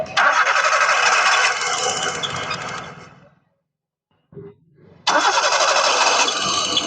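A 2011 Maruti Suzuki Zen Estilo engine runs loud and close, cuts off into about a second of silence, gives a short cranking sputter, then starts again and runs steadily.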